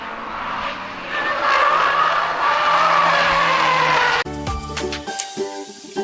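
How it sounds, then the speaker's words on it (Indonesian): Toy race cars played with, giving a loud, sustained skidding whir for about four seconds that then breaks into rattling clicks and scraping taps, heard alone without talk. "Wih, langsung aja kita mainkan mobil balapnya."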